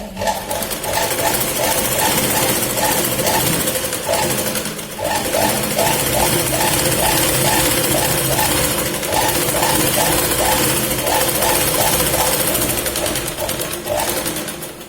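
A sewing machine stitches the waist part of a katori blouse in a run of rapid, steady bursts with a brief pause near the middle, loud and close.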